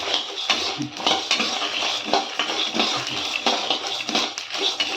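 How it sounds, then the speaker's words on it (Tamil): Cumin and asafoetida roast in oil in a pan, a loud, dense crackle and hiss carrying light metallic scraping and clinks from a utensil, close and continuous with no speech. "ஜீரகம், பெருங்காயத்தை நம்ம எண்ணெயில் வறுத்து பொடி பண்ணால் தான் வறுக்க முடியும்"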